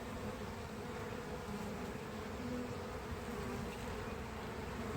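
Honey bees buzz steadily around a spring hive of two 4-frame nucs side by side, one colony dead and one surviving the winter; a dense, close, continuous drone with no talking.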